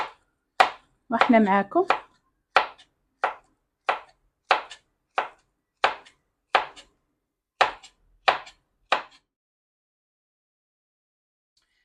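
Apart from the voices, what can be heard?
knife chopping vegetables for Moroccan tagine salad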